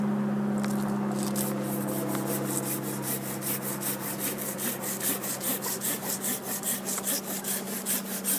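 Pruning saw cutting through a tree branch outside the branch collar, starting with a few tentative scrapes and settling into a fast, even back-and-forth rasping rhythm, close and clear with no talk.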